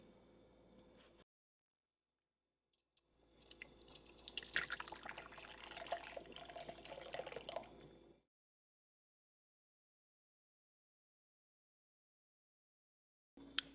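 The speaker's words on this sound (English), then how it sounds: "I'm just squishing out all the liquid out of these lavender buds." Liquid drips and trickles from lavender buds squeezed by hand, faint and close. A soft dribbling spell builds and fades, with silence before and after.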